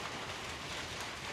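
Steady, dense rain hiss fills the whole stretch, an even wash of falling drops with no voices.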